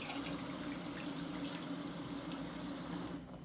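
Tap water runs steadily and close up into a pot, filling it with six cups of water for cooking rice, a continuous splashing gush that stops abruptly at the end.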